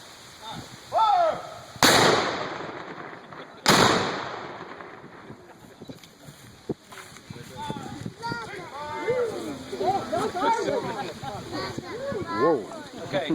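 Two heavy booming blasts from a black powder cannon at a Civil War battle anniversary reenactment in Johnsonville, Tennessee, each a sharp loud report with a long rolling tail, followed by excited crowd chatter and voices nearby.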